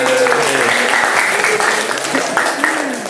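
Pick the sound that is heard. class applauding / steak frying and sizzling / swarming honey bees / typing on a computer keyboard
class applauding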